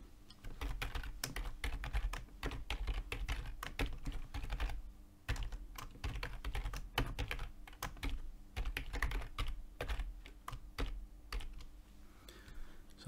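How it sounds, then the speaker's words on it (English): Rapid, irregular clatter of keys as code is typed on a computer keyboard, close and continuous in quick bursts with brief pauses, no voices. "I'll just type the code in here to call it."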